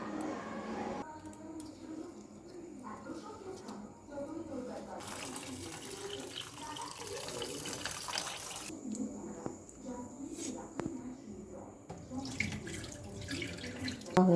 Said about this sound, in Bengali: আমি প্রথমে চালটাকে ভালো করে ধুয়ে নেব।